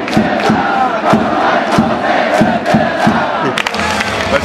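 A Japanese baseball cheer section for the Dragons chants in unison inside Tokyo Dome, a dense roaring crowd with steady rhythmic beats about every half second, loud and continuous.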